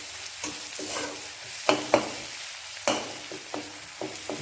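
Spices and chili powder sizzle in hot oil in a pan, with a steady frying hiss broken by several sharp scrapes and clinks of stirring, close by and with no talk.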